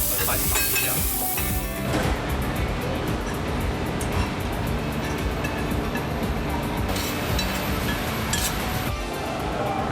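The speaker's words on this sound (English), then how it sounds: "Seasonal vegetables are lightly seasoned, then quickly seared." Seasonal vegetables searing in a hot pan, a loud continuous sizzle with stirring and occasional clinks of utensils against metal, close and unbroken.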